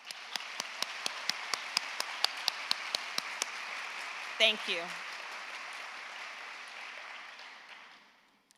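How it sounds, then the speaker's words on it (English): Audience applause at a university nursing convocation ceremony, a steady run of clapping in a large hall that fades out gradually, with a brief spoken voice partway through. "please give these guests our applause."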